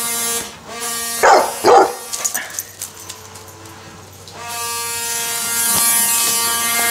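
A dog barks loudly and close during a game of fetch with a stick, two sharp barks followed by a few smaller yips against a steady mechanical hum.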